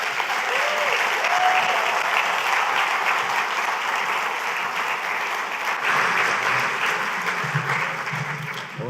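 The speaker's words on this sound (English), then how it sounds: "I think that round of applause meant that you were really dynamic" A sustained round of audience applause fills a cultural and creative industries conference in Grenada, dense and even for about nine seconds before thinning slightly at the end.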